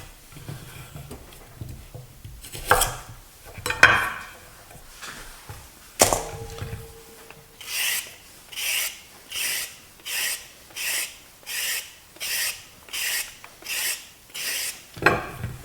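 Carrots are being cut for a beef and cabbage stew: after a few scattered knocks and scrapes, a steady series of about a dozen evenly spaced rasping slices rings out close by, each a short crisp stroke with a gap between.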